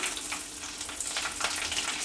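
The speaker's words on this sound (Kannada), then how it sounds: "ಸಾಸಿವೆ ಸಿಡಿತಾ ಇದೆ ಕರಿಬೇವಿನ ಸೊಪ್ಪು ಹಾಕ್ತಾಯಿದ್ದೀನಿ" Mustard seeds and curry leaves sizzle in hot oil in a pan, giving a steady, close hiss with faint crackles and pops throughout, no voices.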